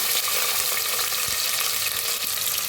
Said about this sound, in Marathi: ह्याच्यात टाकूया एक चमचा मोहरी दुसरा खडा मसाला मी वापरलेला नाही कुठला एक चमचा जिरं कापून घेतलेला कांदा